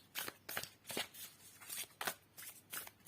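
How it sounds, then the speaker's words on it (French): An oracle card deck being shuffled by hand up close: rhythmic bursts of riffling, papery card shuffling about every half second, soft and alone with no talking. "Je vais aussi tirer une petite carte d'un oracle que j'aime beaucoup"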